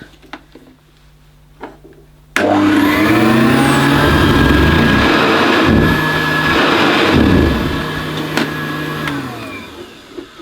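A 1981 Hoover Senior U4186 upright vacuum cleaner switches on after a quiet moment, its motor roaring loud and close with a steady whine that wavers slightly as it strains, then eases off toward the end.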